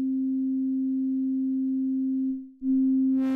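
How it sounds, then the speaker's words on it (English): A pure, steady sine tone from an OP-1 Field synthesizer holds at one pitch, briefly dips out, then returns with added buzzy hiss near the end. "until we're basically back at a sine wave"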